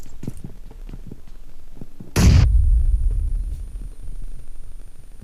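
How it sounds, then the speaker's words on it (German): A single loud grenade blast in the video game PUBG Mobile, a sharp burst followed by a rumbling decay, preceded by faint footstep-like game sounds. "Granate liegt."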